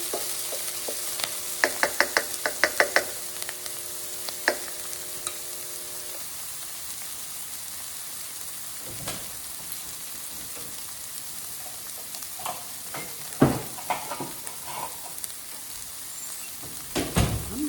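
Onions and jalapeno peppers sizzle in a pan as homemade chile rellenos are prepared. A steady frying hiss runs throughout, broken by scattered clinks and scrapes of stirring, with a few louder knocks near the end.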